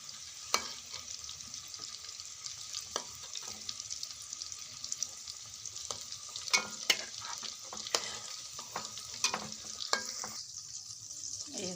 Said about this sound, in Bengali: এই হয়ে গেল আলু ভাজা